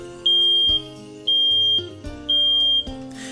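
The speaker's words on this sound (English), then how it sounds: "take immediate action if the detector sounds the alarm" A carbon monoxide detector aboard a houseboat sounds its alarm, a loud electronic beep repeating in three evenly spaced pulses with steady tone underneath, no voices.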